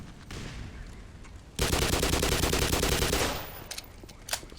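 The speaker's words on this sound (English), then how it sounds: "I think it's the guy that's shooting at me" Sustained burst of automatic enemy gunfire in the video game Black Mesa, loud and dense rapid shots for about two seconds, with quieter scattered shots before and after.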